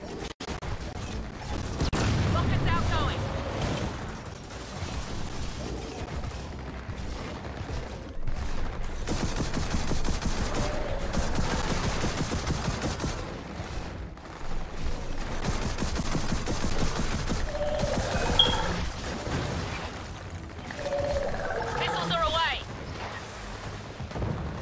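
A Gears of War 4 firefight with continuous rapid gunfire and heavy explosive booms from an airstrike, loud and sustained, with voices shouting over the combat.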